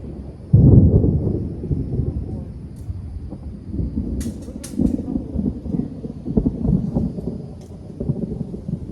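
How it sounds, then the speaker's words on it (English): Thunder from an approaching storm opens with a loud, deep boom and keeps rolling and rumbling, mixed with wind buffeting and a few sharp crackles throughout. "This storm is coming."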